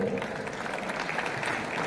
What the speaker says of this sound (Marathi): त्यासाठी एकदा जोरदार टाळ्या झाल्या पाहिजेत